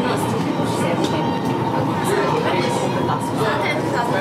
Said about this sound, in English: They actually have a tram service here.